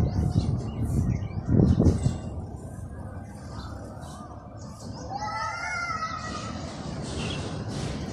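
Pigeons feed on scattered rice grains on a city rooftop in the early morning, with soft cooing and rustling mixed with a few nearby calls and light background noise.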